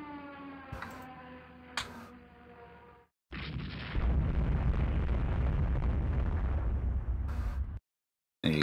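Bombs strike carriers in Rule the Waves 2, a loud sustained explosive roar bursting in after a humming tone and lasting several seconds before cutting off abruptly.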